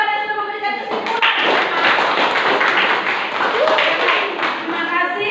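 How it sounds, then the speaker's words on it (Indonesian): A classroom of students claps for a classmate, a lively burst of dense hand claps that follows a voice and holds for several seconds, with speech at the edges. "Tepuk tangan dulu untuk teman yang sudah memberikan kesimpulan."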